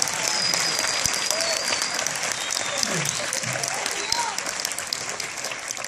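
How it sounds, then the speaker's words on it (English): Sustained audience applause and clapping at a live stand-up comedy show, a dense steady wash of many hands that holds at an even level throughout. "y'all better applaud"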